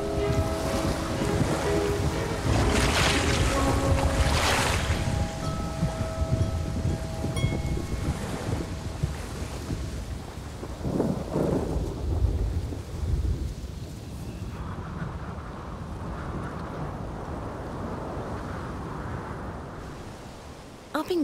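Gusty wind and a night storm on North Stradbroke Island, Queensland, a loud roaring rush that swells and fades in waves, easing to a softer, duller wash toward the end.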